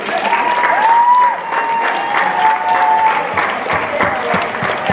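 A student body assembly gives a loud, sustained round of applause for track athletes who qualified for state, a thick wash of clapping from a crowd with faint whoops and voices mixed in.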